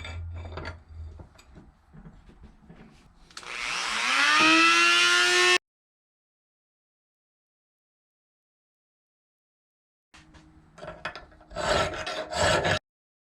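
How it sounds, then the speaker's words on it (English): A Ford 4.6 or 5.4 SOHC Mustang V8 camshaft gear is ground with a loud, rising rasp. Softer scraping comes first, then a silent gap, then another burst of grinding. "Flip it around and grind from the other side."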